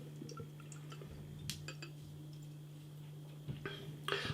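A 16 fluid ounce can of wet hop pale ale poured into a glass, with soft liquid trickling, small clinks of glass and can, and a brief gurgling splash near the end.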